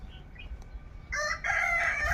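Native country chickens kept in a netted rural enclosure cluck softly, then a rooster crows loud and close, its call filling the last second.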